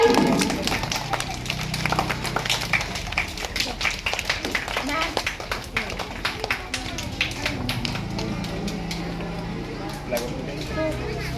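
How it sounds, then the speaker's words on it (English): People at an Independence Day celebration event clap continuously, a dense run of sharp hand claps that starts loud and settles into a steady patter, with talk mixed in beneath. "so clapping for her"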